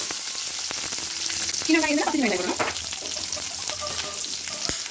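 Garlic and onion sauté in a hot pan for pirandai rasam, with pepper added. A steady close sizzle runs throughout, with brief stirring and a short voice partway through.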